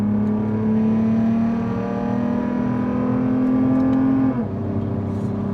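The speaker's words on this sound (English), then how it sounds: "So third gear pull, uphill too." A Lexus ES 350 pulls hard uphill in third gear, its engine note climbing steadily in pitch for about four seconds before dropping abruptly, heard from inside the car with no talk.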